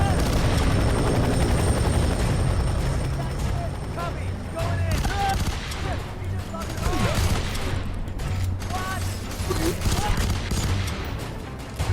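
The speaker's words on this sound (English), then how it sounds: "Oh, it is a burst rifle, okay." Burst rifle gunfire in the shooter game F.E.A.R. 3, set on a trip through the suburbs: repeated close bursts of shots ring out over a constant helicopter-like rumble, with voices heard through the fight.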